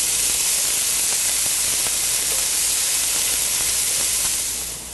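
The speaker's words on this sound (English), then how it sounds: "we're just going to let this all simmer down until the onions start to get transparent" Onions simmer in a pan in a home kitchen, giving a loud, continuous sizzling hiss that holds steady throughout and eases off slightly at the very end, with no talking.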